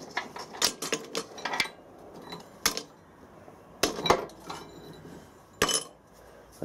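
Scrap bronze pieces, including machine-tool offcuts and leftovers from an earlier casting, clink and clatter into a casting crucible. Several sharp metallic knocks and jangles come in uneven clusters, close and distinct, with short quieter stretches between them.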